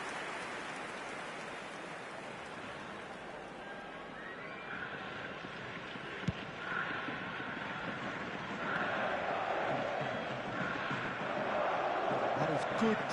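Crowd at a football match applauding a player's efforts, a steady wash of distant clapping and murmur that swells louder toward the end, with a commentator talking over it.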